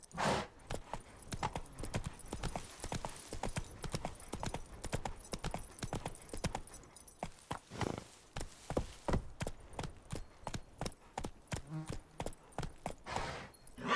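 Roach the horse's hooves clip-clop steadily and close in The Witcher 3, a fast, continuous rhythm of hoofbeats lasting throughout.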